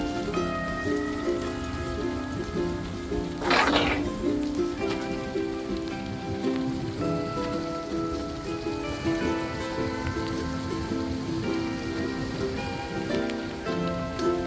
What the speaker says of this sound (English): Looks like some heavy rain's coming in, so I'm gonna have to stop and put my poncho on.